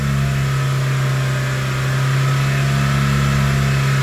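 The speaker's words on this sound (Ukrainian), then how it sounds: "Добряче нагружаємо двигун зараз 3000 оборотів" A Skoda Octavia Tour 1.6 BFQ car engine holds a steady, high-revving drone at 3000 rpm, loud and close, with a constant hum and no pauses or speech.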